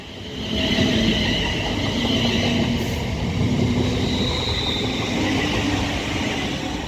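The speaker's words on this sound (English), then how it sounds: "Now departing is going to be the delayed 1359 London North Western Railway service to Birmingham New Street." London Northwestern Railway service to Birmingham New Street pulling away from Acton Bridge station on the West Coast Main Line, a loud, steady rolling rumble with a drawn-out whine and wheel noise, no voices.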